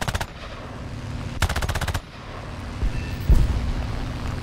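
Machine-gun fire from a Ki-10-I biplane in War Thunder air realistic battle, two short bursts of rapid rattling shots over a steady engine drone, fairly close, followed by a few duller thumps.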